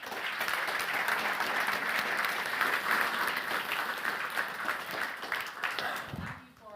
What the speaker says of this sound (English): please help me give them a big round of applause.